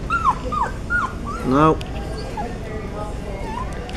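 A hairless guinea pig gives a few short, high squeaks and whistling chirps, close by, followed by a softer, lower squeal, while a person briefly speaks.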